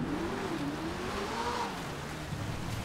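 An Audi RS3 engine in GTA V revs hard inside a tunnel, its rising and falling pitch sweeping over a dense roar of road and exhaust noise, close and continuous.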